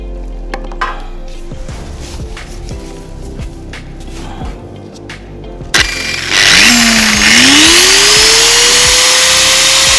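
A power tool cuts prefabricated steel purlin for a railing, starting loud and abruptly after quieter clatter and scraping, then a steady high whine with a rising pitch that holds to the end.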